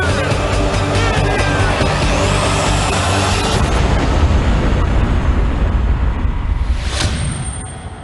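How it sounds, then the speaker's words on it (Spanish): A large non-nuclear truck bomb explodes at barracks in Lebanon as a loud, sustained roar with deep rumble. Debris-like rattling follows before the sound fades at the end. "Es la explosión no nuclear más grande desde la Segunda Guerra Mundial."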